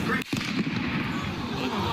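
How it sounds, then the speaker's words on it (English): A single sharp gunshot cracks out once in a crowd at an outdoor college campus event in Utah, captured on a phone, followed by continuing crowd noise and murmuring. "and then the gunfire, the gunshot, and then the phone kind of goes quiet"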